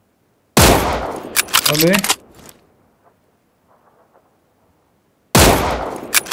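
Gunfire in the video game PUBG comes as two loud bursts of rapid shots, one early and one at the end, separated by a quiet stretch. A man exclaims briefly between them.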